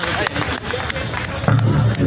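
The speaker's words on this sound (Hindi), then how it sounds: "जोरदार तालियों से स्वागत करेंगे।" A crowd at an outdoor political rally in India claps and cheers in a loud, dense burst of applause mixed with crowd noise and voices.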